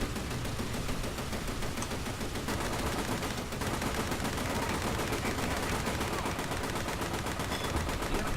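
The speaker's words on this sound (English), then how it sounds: "It appears that the 50 cals are way better than everything else." .50 cal machine guns firing in the video game War Thunder, a loud, continuous stream of rapid gunfire bursts with only a momentary dip, dense and close throughout.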